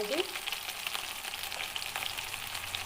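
Onions sizzle steadily in hot oil in a pan for a brinjal and tomato curry, a close, even crackling hiss that holds for the full stretch with no pauses.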